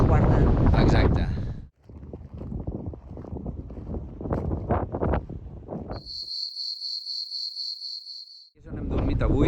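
Strong wind at an outdoor camp in Mauritania buffets the microphone in loud, rough gusts at the start and end, with a voice and a thin, high, insect-like whine in between.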